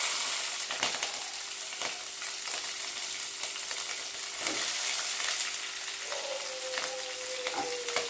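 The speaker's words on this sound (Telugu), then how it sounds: "ఇప్పుడు పచ్చిమిర్చి, ఉల్లిపాయలు కూడా వేసుకొని కలుపుకోవాలి" Green chillies and onions frying for a carrot and beans stir-fry, a constant bright sizzle broken by repeated spatula scrapes and taps against the pan at an uneven rhythm.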